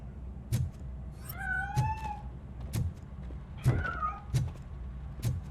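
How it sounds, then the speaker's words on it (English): A cat meows twice in Robocop: Rogue City, each drawn-out, rising call standing clear over soft ambient thumps and background noise, with no talking. "That cat must be hiding inside."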